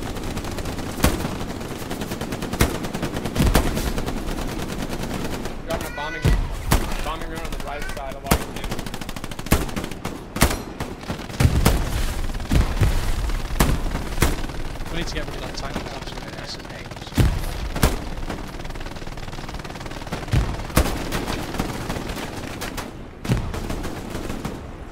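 Machine guns rattle in the World War II shooter Hell Let Loose: repeated loud bursts and single sharp shots, some close and some more distant, with players talking over the gunfire.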